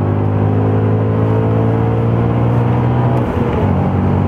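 A steady, loud race car engine drone on track at Barcelona-Catalunya with strong low harmonics holds at high revs, dipping briefly near the end before surging again.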